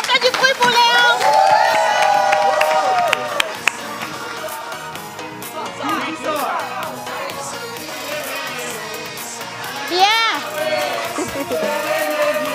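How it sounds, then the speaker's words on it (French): A crowd at a summer fun-fair contest show cheers and claps for a contestant named Léon, loose scattered applause and shouts mixed with chatter and loud voices, cheering swelling briefly near the end. "On va applaudir pour toi, je te laisse partir. Oui, on fait du bruit pour Léon."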